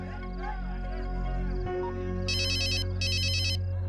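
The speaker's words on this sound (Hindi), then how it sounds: "सुनो, तुम्हारा फोन बज रहा है" A mobile phone ringtone chimes in two bright, repeating bursts over a steady low hum, close and clear.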